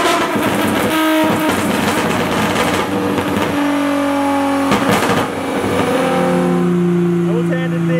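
A modified Nissan 350Z with a VQ V6 revs hard on a dyno, its loud, brassy engine note rising and falling in strong surges that fill the room, with voices mixed in.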